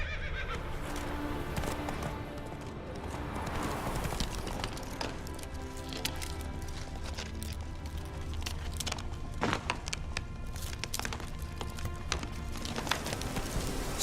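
A horse in The Witcher 3 gallops with rhythmic clip-clop hoofbeats, and whinnies and snorts break in now and then over ambient game sound, fairly loud and close.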